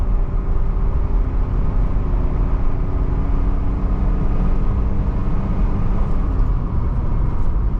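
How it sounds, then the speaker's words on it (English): A 1987 Mercedes-Benz 300TDT diesel engine at wide open throttle makes a loud, steady low drone mixed with road roar, unbroken from start to finish and without speech. "That is wide open throttle. Just riding the torque, no kick down."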